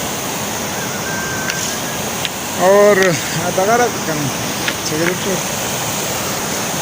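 A fast-flowing mountain stream on the K2 base camp trek in steady cold rain gives a loud, continuous rushing roar, with someone speaking briefly over it midway.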